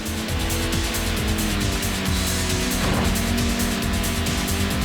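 A race car on the Trial Mountain track in a PS1 racing game, engine droning steadily and loudly throughout with a rhythmic pulsing, alone without voices.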